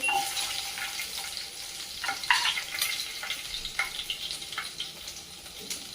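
Onions with ginger-garlic paste fry in a pan, a steady broadband sizzle with scattered stirring clicks and scrapes, fairly close and moderately loud, no talking.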